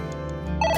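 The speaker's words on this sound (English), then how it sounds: "The phone is ringing." A phone ringing in the video game AI: The Somnium Files, a brief electronic ringtone burst rising in brightness toward the end, set over a sustained low musical background with no talk.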